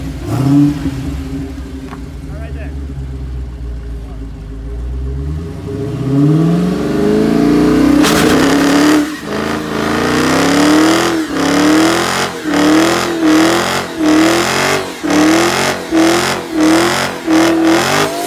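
A Dodge Hellcat and a Toyota Supra rev hard during burnouts. Engine noise rises from a low idle to loud, close, roaring revs, then settles into a rapid series of rhythmic surges as the throttle is blipped repeatedly.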